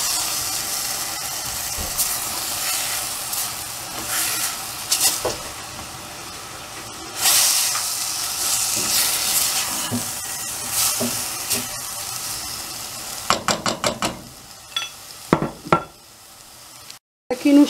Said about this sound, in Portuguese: Aqui no chouriço, que eu deixei aqui a fritar um pouco